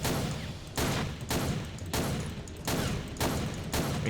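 Sustained bursts of automatic gunfire from a Men of War: Assault Squad 2 battle with the Dark Rising mod, several rapid loud volleys separated by brief pauses.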